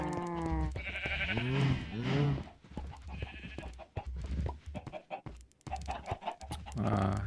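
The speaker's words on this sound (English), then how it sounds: "Chickens, cows, and sheep." Video game sheep bleating alongside clucking chickens in a busy farm scene, several calls overlapping with short pauses between them.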